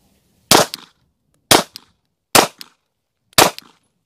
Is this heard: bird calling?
no